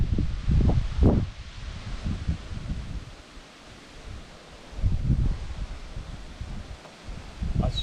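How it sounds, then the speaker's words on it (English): Gusty wind blowing outdoors, buffeting the microphone in loud surging rumbles that ease off midway and then build again, with faint rustling beneath and no talk. "I sure wish this wind would stop so I could finish my scene."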